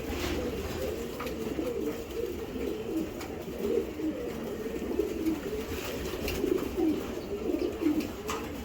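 Racing pigeons, including a pied grizzle cock and a hen, coo in low repeated rumbling calls that carry steadily through the whole stretch at moderate loudness, with no voices over them.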